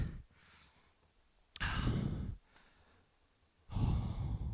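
Heavy, forceful breaths in and out during a kettlebell strength workout, long exhalations with pauses between, close and alone.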